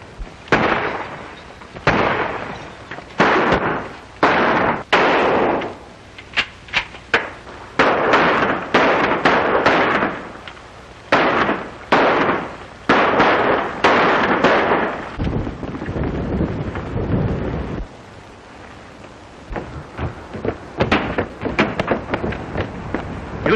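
Gunfire in a 1938 western film: repeated sharp shots and cracks in irregular volleys, some rapid, some spaced, loud and close over rough outdoor background.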